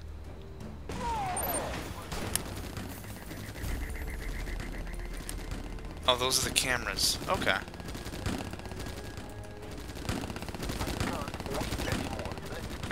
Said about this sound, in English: I'm hearing an obscene amount of gunfire, but I don't see what's shooting?